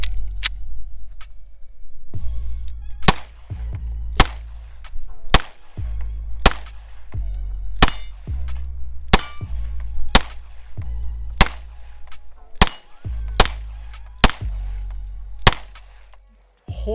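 A Taurus G3C 9mm pistol fires a long string of loud shots at an uneven but steady pace, each sharp crack followed by a metallic clang off a steel target, over constant low background rumble.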